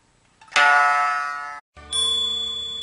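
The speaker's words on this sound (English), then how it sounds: "A wind chime tinkling in the breeze." Bright, ringing metallic tones of a wind chime in the breeze strike and sustain, then fade, followed by another ringing strike, tinkling close by.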